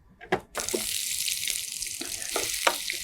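Chopped onions sautéing in a hot pan while preparing a chilli chicken roast, giving a steady broadband sizzle after a few clatters at the start, with occasional stirring knocks over the hiss.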